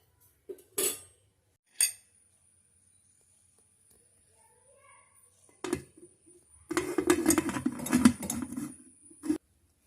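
Goat liver mixed with a spoon in a pan, a few isolated scrapes and clinks early on, then a louder burst of spoon-on-metal scraping and clatter, close by.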